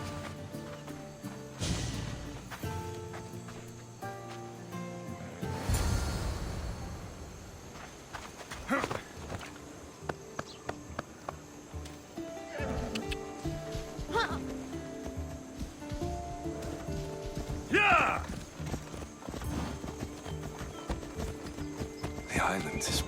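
Horses clip-clopping in Assassin's Creed Odyssey as characters ride, steady hoofbeats with an occasional whinny, under ongoing character dialogue.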